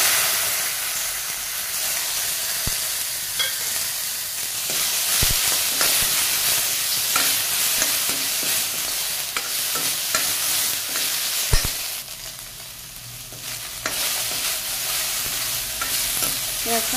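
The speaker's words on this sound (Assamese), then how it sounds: "খুব ধুনীয়াকৈ ভাজি লৈছো তেল অকণমানো নাই" Pieces of singhi catfish fry with ginger, garlic and chilies in a pan with very little oil, giving a continuous loud sizzle and hiss with occasional clanks as they are stirred.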